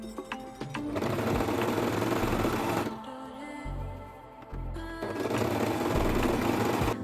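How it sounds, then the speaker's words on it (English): A sewing machine runs a zigzag stitch along a seam in steady fast buzzing bursts, pauses briefly for a low hum and a clunk, then starts stitching again at the same brisk pace. "Finish the seam with an overlocker or a zigzag stitch"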